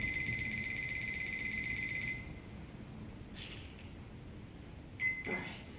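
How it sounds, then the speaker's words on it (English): A workout timer being set sounds a steady high electronic tone for about two seconds, then a second short beep cluster near the end, over a faint room hum. "let me set my timer"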